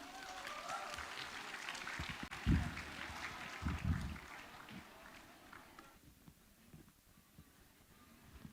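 Audience applause welcoming a presenter at the 2nd International CA Students' Conference, a steady patter of clapping from a seated crowd with a few louder bursts, fading slightly toward the end.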